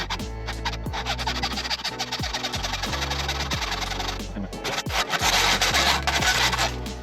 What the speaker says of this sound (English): Here I'm taking off the ends of the aluminium arms so that they don't pierce the tank when I secure it.